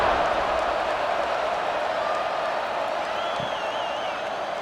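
A stadium crowd in the video game EA College Football 26 produces a constant, broad roar with scattered whoops and cheering at a Minnesota at Oregon football game, steady and loud with no break throughout.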